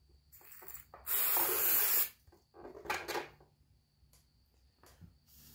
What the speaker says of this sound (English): I'm gonna try to hold it with the right pressure and spray it.